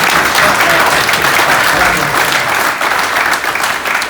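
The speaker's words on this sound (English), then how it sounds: "So big round of applause for Dino." A dense burst of applause at a charity golf day, many hands clapping steadily and loudly from a crowd throughout, with no pause.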